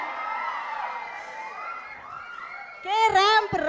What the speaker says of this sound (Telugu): మనకు బండ్ల గణేష్ గారికి ఒక్కసారి గట్టిగా చప్పట్లతో